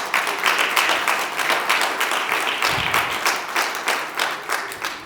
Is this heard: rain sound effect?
no